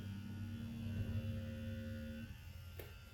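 An Acus C2 tattoo machine runs with a steady electric hum and buzz, close and moderately loud, its tone shifting slightly toward the end, with no talking.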